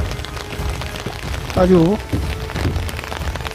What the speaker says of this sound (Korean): 아주 비가 내리니까 차분히 내리니까